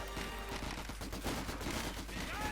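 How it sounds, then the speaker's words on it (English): Vickers machine gun fire in Company of Heroes 2, dense rapid bursts mixed with other gunfire and battle noise, loud and continuous throughout. "Vickers unleashing death upon the Grenadiers' unfortunate backs as well."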